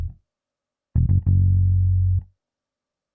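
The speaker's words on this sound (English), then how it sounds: "So for the bass, I'm using the Trillion bass" A Trilian synth bass on a clean Fender mute full range patch plays a few short plucked notes, then one held, round low note that stops cleanly, with silence around the notes.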